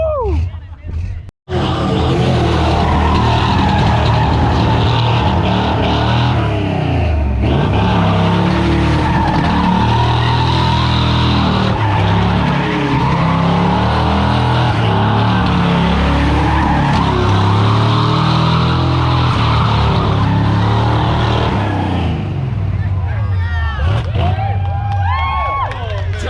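A car at a car wash meet revs its engine hard and steadily while its tires squeal and skid, loud and close, with crowd noise and voices mixed in until it drops off near the end.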